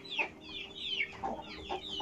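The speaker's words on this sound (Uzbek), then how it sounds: "O'sha Raptor degan horozdan olganman, o'shaning bolasi. Hali bola jo'ja bu." A young chick bred from a rooster named Raptor clucks close by, a run of several quick, high, sliding peeps and clucks in an uneven rhythm, with no one speaking.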